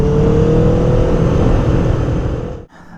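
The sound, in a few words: sport motorcycle engine revving with exhaust pops and crackles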